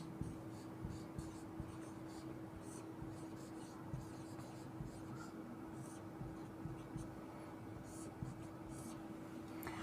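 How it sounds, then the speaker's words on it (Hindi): Handwriting on paper during a genetics lesson, faint intermittent scratching strokes under a steady low hum, with occasional soft voice in the background. "जीन प्रारूप लिख लेते हैं हम"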